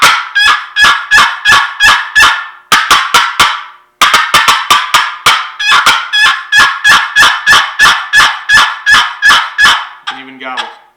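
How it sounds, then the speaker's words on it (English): A checkered wooden turkey box call repeats loud, sharp yelps and clipped cuts in quick rhythmic runs, close and alone, with a brief rasp at the end. "To cut, I'm just snapping it on you."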